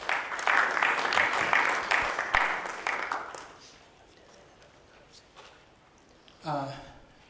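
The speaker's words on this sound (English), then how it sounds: "let's give him a nice round of applause" Conference attendees at an ICT session give a round of applause for Timor-Leste's transport and telecommunications official, crisp clapping that tapers off into quiet room tone, followed by a brief spoken voice.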